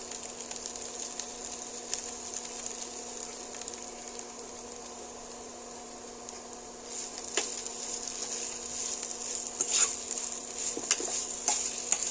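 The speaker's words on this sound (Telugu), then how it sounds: "కొత్తిమీర వేసి కొంచెం కలిపెట్టుకుందామండి." Potato fry being stirred in a pan after coriander leaves go in: a steady low sizzle under repeated scraping and tapping of a spoon against the pan, getting busier toward the end.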